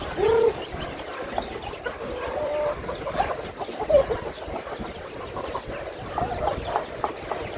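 Chickens clucking and calling close by while being fed, with scattered bird chirps over a steady farmyard background and no talk.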